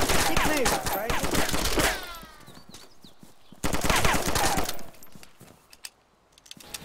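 Heavy automatic gunfire in DayZ during a fight with bandits in Berezino, dense loud bursts for about two seconds, then a pause, then another sustained volley with shots trailing off.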